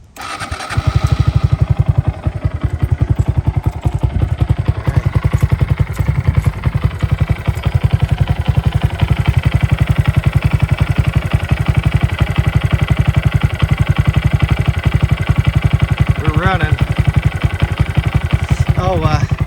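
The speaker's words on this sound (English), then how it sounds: "We're just gonna let it idle and warm up." A 2022 Honda Grom motorcycle engine starts and settles into a steady, loud, close idle with a rapid chugging pulse and faint clatter that continues throughout.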